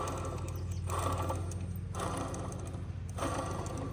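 A faulty VR6 alternator spins, giving a steady mechanical whir with a ticking, ratchet-like rattle and a low hum, broken by periodic grinding swells and close up throughout.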